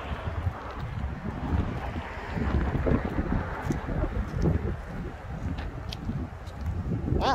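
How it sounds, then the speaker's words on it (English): Strong wind buffets the microphone at a panoramic overlook just outside Lassen National Forest, a steady roar with gusts rising and falling throughout, loud and close. "Wow, it's windy here."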